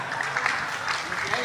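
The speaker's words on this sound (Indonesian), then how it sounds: "Tepuk tangan untuk beliau" Audience clapping for Kiai Haji Agus Ali Mazhuri at a religious gathering, a brief steady patter of applause from a crowd, with talk heard over it.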